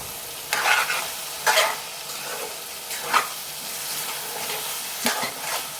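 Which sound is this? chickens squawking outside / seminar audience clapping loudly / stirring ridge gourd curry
stirring ridge gourd curry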